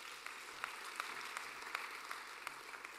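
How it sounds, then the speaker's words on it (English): An audience at a campus forum gives a round of applause, soft and distant-sounding, with scattered sharper claps standing out from the steady patter. "Give them a round of applause."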